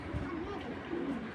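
Racing pigeons coo in low, wavering, throaty tones that come close and fairly loud in two phrases, with a soft murmur of background sound underneath.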